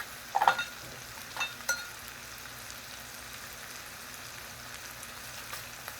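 Frying in a pan while making a plantain and egg frittata, a faint steady sizzle with a few sharp clinks and scrapes early on, quiet and close, no voices.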